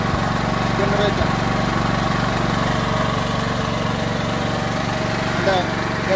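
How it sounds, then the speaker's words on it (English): A Champion 7000-watt inverter generator runs at a steady, loud mechanical drone with a constant low hum and even engine rhythm, close by, with no noticeable change in pitch. "Now I can connect this generator to my transfer switch"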